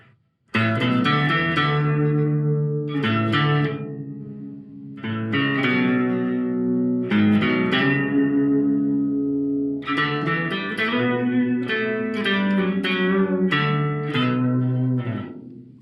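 Electric guitar played through an Ocean's 11 reverb pedal with a delay effect still engaged, sustained chords and melodic phrases in several bursts, each trailing into a washy, echoing tail.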